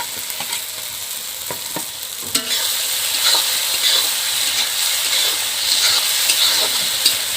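Potatoes tumble into a pan of spiced tomato masala and sizzle steadily as a spoon stirs and scrapes through them, frying continuing close and loud over several seconds, no voices.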